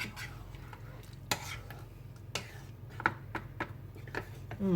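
Bulgur with vegetables and chorizo being stirred in a pot, a steady scraping and shuffling with scattered sharp clinks of the spoon against the metal sides over a low continuous hum.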